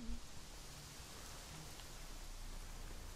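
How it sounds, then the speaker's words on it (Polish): Rain is starting in The Witcher 3, a soft, even hiss of falling drops that stays faint and steady the whole time. "Ale zaczyna deszcz."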